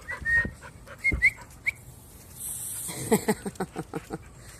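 Dogs whimper in a few short, high-pitched whines, followed by a quick run of soft rhythmic yips and panting sounds nearby, while playing with a hose.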